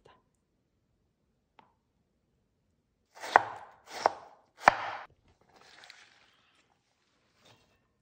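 A knife cuts radish into thin strips on a cutting board, three distinct close chops in a slow irregular sequence, followed by a softer scraping stroke and a faint final tap amid quiet.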